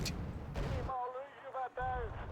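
Artillery fire in a combat video game, heard as heavy broadband blasts at the start and end with someone talking over the quieter middle.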